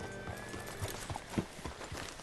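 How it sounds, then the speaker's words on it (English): Horse hooves clip-clop in Red Dead Redemption II, a steady run of soft, fairly close hoof beats over a low ambient background, with a few brief louder knocks. "Hitch your horse up here."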